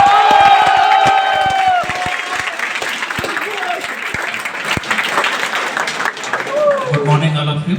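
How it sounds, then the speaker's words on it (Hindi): Students at a coaching-center motivational session in Kota burst into loud applause with whoops and youthful shouting for the speaker. Dense clapping continues throughout, with voices and cheers rising over it near the end. "आरकेवी सर के लिए जोरदार तालियों के साथ"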